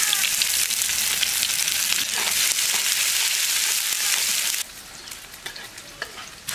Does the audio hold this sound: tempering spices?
yes